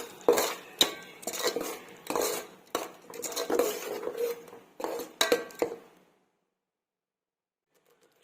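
A spoon scraping and clinking through tomato biryani ingredients with cumin powder in a metal pot, close rhythmic bursts of stirring that stop into silence after about six seconds.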